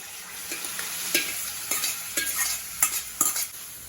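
Stirring in a pan of sizzling onion and tomato, with a spoon scraping and clinking several times over a soft frying hiss.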